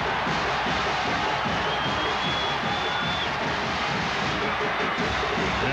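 Stadium crowd of 97,388 at a 1992 Alabama at Tennessee college football game, a broad, steady, loud roar of cheering that fills the whole stretch without pause.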